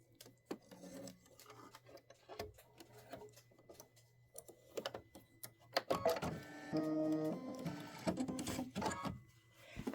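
A sewing machine stitching thick quilted Christmas fabric, starting with quiet handling taps and clicks, then running in a close, rapid mechanical whirr of stitches in the second half.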